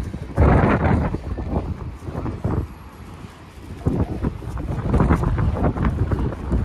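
Strong wind buffets a microphone in loud, rumbling gusts that swell and ease, with a brief lull midway before blowing hard again.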